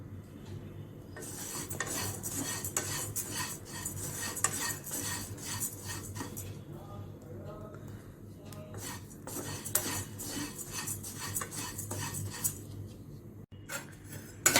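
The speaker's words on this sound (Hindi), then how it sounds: "सिर्फ कढ़ाई गर्म करके इस चूड़ा को उसमें हल्के हाथों से भूनना है" Flattened rice (chuda) dry-roasted in a hot kadhai with no oil, a long run of brisk rhythmic spatula scraping and metallic clatter over a faint sizzle.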